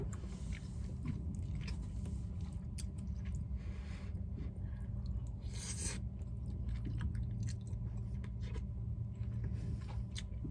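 Someone chews a mouthful of cheesy brown rice inside a van, soft wet crunching and mashing close to the microphone over a steady low hum, with no talk.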